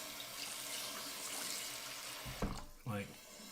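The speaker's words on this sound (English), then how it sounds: "Now I'm introducing some cold water to it." Cold water runs from a sink faucet onto a pot in a steady, close rushing stream, ending with a couple of sharp clunks and a splashy shift in flow; a voice is faintly present.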